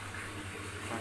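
Steady running water, like a tap pouring into a basin, fills the second with a constant close splashing hiss and no voices.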